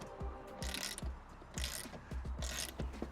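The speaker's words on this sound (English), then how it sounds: "So we're going to remove this bolt, and that will allow us to move this to get the battery out." Ratchet turning a 10 mm bolt near a car battery during a battery replacement: quiet, rapid clicking of the pawl in three bursts, with soft scraping between strokes, close up and with no talk.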